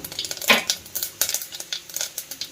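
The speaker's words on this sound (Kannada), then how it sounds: "ಈ ಎಣ್ಣೆ ಕಾದಿದೆ ಈಗ ನಾನೀಗ ಸಾಸಿವೆ ಹಾಕ್ತಾ ಇದ್ದೀನಿ" Mustard seeds land in hot cooking oil and splutter, giving rapid irregular pops and crackles close by, with a metallic clink of utensil against the pan.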